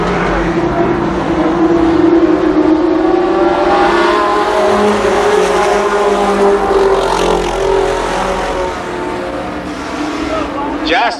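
Race cars in a Limited Sportsman feature event at Columbus Motor Speedway in 1993, engines droning loudly and continuously as they circle the track, with a commentator talking over them.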